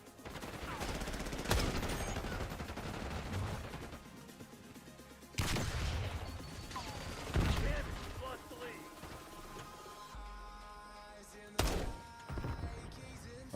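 Gunfire in a Call of Duty match: several sharp bursts of shots around 1.5, 5.5, 7.5 and 11.5 seconds, separated by quieter stretches of ambient game noise with voices talking underneath.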